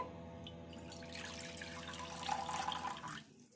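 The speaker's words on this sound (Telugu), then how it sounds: "కడాయి తీసుకొని కప్పు బియ్యం పిండికి కప్పు వాటర్ పోసుకోవాలి" Water runs and splashes steadily into a kadai for rice flour dough, the pour growing a bit louder toward the end before stopping abruptly.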